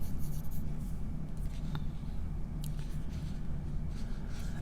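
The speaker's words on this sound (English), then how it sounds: "turn your paper to the back and write your name" Pencil writing a name on paper in a classroom, a steady scratchy scraping of graphite over a low room hum, close and continuous without talk.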